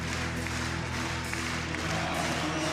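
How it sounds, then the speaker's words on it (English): At the Adidas Rockstars 2016 breakdance event, a crowd claps and cheers for a dancer mid-rotation, a dense wash of applause over pounding music. "Crowd getting behind him."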